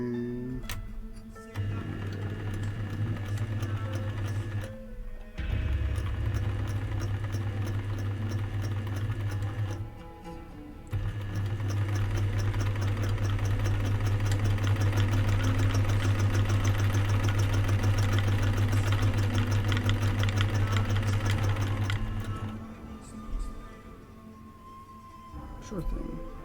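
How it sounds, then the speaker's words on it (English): A sewing machine stitches trim onto a pirate hat, its steady mechanical whir running loud and close in several long bursts with brief pauses between them. "So I'll be sewing."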